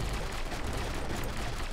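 Cannons firing in a tower defense video game, a dense, continuous wash of rapid booming shots that blur together at steady loudness with no pauses.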